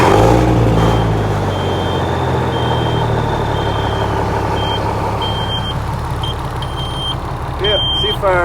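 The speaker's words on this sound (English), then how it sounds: "Excuse the beeping, it's gonna be loud." Loud idling Kenworth diesel truck rumble with a series of high, evenly spaced electronic beeps repeating over it.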